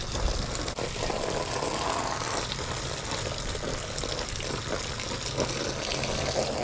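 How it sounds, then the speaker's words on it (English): Hose water floods and rinses a winch line, a loud continuous gushing spray that stays steady and close throughout. "So now we're just going to flood the line with some hose water"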